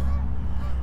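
Canada geese honk as they fly past outdoors near a garden, a short burst of overlapping honks over steady low rumble.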